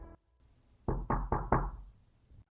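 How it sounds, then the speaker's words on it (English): Four firm knocks on a door late at night, close and loud, coming in a quick, even series after a brief quiet pause. "Another knock."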